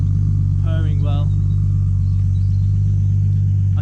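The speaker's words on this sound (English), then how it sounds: "But here she is, purring well." A tuned 700 bhp Nissan Skyline R33 idles after a warm-up drive, its deep, steady rumble running loud and unbroken while a voice speaks briefly over it early on.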